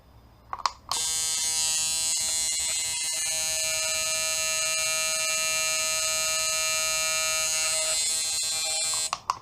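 A tattoo machine from a tattoo kit runs with no needle fitted, giving a steady, loud electric buzz that starts abruptly, holds evenly for about eight seconds, then cuts off.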